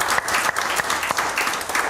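A church congregation at a Sunday service applauds the Lord, a dense, steady clapping of many hands that fills the whole stretch at full strength.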